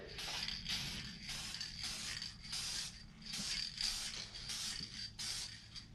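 A spray gun applies a light second coat of paint to a Road Warrior fairing for a 2018 Harley-Davidson Sport Glide FLSB, in repeated short hissing bursts with brief gaps between passes.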